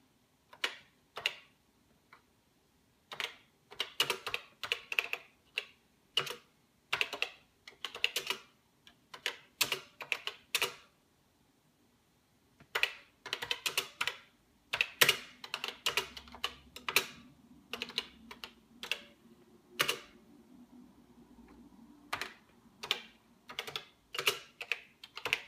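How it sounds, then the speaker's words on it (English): Keys clatter on a computer keyboard while text is typed into a CP/M emulator running on a 6809 machine: quick bursts of close, crisp clicks with a few short pauses between them, and no voices. "You see, you can type text on it."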